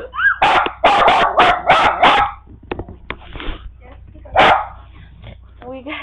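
A puppy barks in a quick run of about six sharp yips, then gives one more bark a couple of seconds later. People talk and move nearby.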